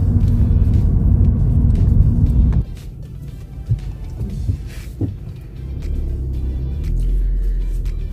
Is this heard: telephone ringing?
no